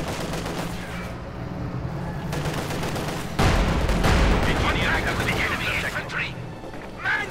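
Company of Heroes 2 battle audio: dense bursts of gunfire and machine-gun rattle crackle continuously, with a heavy boom midway, while a commentator talks over the din.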